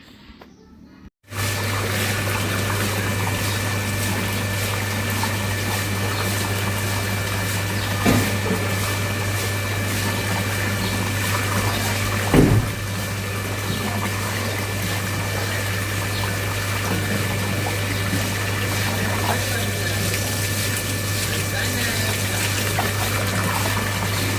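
Tap water runs steadily into pots set aside for watering plants, a loud, constant rushing flow with a low hum underneath that begins after a brief quiet opening and continues unbroken.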